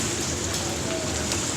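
Steady rain falls in Sialkot, a continuous even hiss of drops on surfaces with no letup across the short stretch, heard fairly close and alone.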